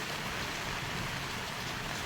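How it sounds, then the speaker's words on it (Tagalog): Steady typhoon rain hisses across the whole stretch at a farm, a dense even patter on a surface with no breaks and no voices. "At ito, yung ulan talaga, eh, walang tigil."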